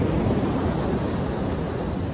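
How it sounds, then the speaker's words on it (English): Heavy ocean waves breaking on the South Iceland coast, a steady close roar of surf with wind buffeting the microphone and no voices. "You see those massive waves just breaking in there."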